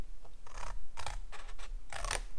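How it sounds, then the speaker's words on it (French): Scissors cutting tabs in scrapbooking paper for a Halloween project, several close, crisp snips in an uneven rhythm against a quiet background. "On vient découper les onglets"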